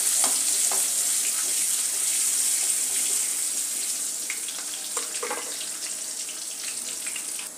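Mustard seeds and asafoetida sizzling in hot oil, a bright, dense hiss with scattered small pops and crackles, close and steady, easing off slightly toward the end.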